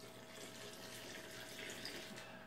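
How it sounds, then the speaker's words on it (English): Water pours steadily into a sugar mixture being made as winter feed for bees, producing a continuous soft splashing, trickling wash that stays even and faint throughout. "So I'll add about half this water."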